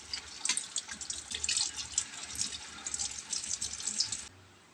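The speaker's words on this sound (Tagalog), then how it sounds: "Hugasan lang nating mabuti ang tilapia guys." Tilapia fish rinsed under a running kitchen tap, a close, continuous splashing gush of water that rises and falls for about four seconds and then cuts off abruptly.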